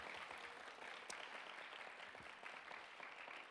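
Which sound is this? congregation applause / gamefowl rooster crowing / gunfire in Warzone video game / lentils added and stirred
congregation applause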